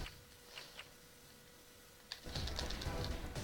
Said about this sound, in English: It's a little obnoxious hearing the clicking